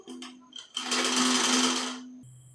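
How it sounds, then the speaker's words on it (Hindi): A sewing machine stitching a straight seam on a kurti, starting with a few brief buzzy bursts before a sustained loud whirring run of stitching that stops abruptly, close up with a steady motor hum. "सीधा सिलाई लगाएंगे,"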